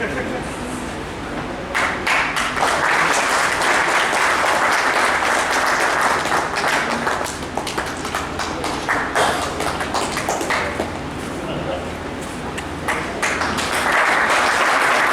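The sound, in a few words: audience applauding at a ceremony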